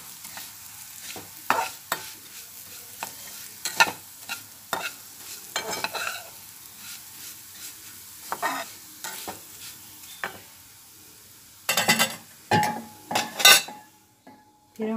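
Something is roasted in ghee in a pan, with a soft sizzle under repeated scraping and clinking strokes of a utensil against metal, irregular and close, growing busier near the end.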